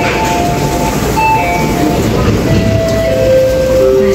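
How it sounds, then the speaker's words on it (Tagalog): A train pulls into a busy station, a steady loud rumble of rail cars with brake squeals and high metallic tones, while a crowd murmurs around it. "Ayan na yung tren guys, tamang-tama."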